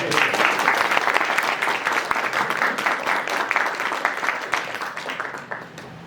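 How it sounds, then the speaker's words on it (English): Audience applause honoring professors and teachers at a talk on experimental archaeology, a dense, steady crowd clapping that holds loud for several seconds and then thins slightly toward the end. "can we please give a round of applause for every professor and teacher?"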